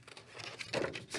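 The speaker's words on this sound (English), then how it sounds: "you just take some scissors" Scissors cutting through paper to cut out traced hand shapes for a craft, giving close, crisp crinkling snips and rustles in quick irregular bursts.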